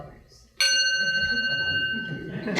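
A timekeeper's bell at a candidate forum strikes once with a sudden bright ringing onset, its sustained tonal overtones lingering clearly over low room murmur and speech-like background.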